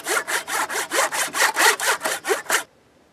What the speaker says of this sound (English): so that's what the saw is cutting through